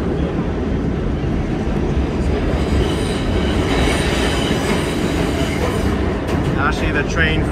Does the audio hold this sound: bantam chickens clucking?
no